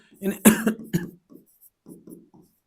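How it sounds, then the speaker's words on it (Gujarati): A close, forceful cough bursts out at the start, followed by a few softer, muffled coughs and throat sounds trailing off, during a maths lesson. "થોડું ખાંસી આવતો છે એટલે રૂમાલ રાખવા પડશે"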